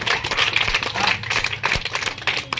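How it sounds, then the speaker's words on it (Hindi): Clapping for the winners of a non-fire cooking competition: a dense, close round of handclaps from a group, steady throughout. "कीप क्लैपिंग फॉर दो।"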